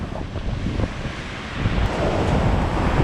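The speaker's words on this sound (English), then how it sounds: "And we're going to get belted by this wave." Ocean waves crash against a rocky island coastline near a headland, a loud rushing surf with wind buffeting the microphone, swelling toward the end as a bigger wave rolls in.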